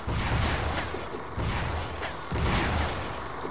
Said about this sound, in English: Come on, I gotta keep on shooting them.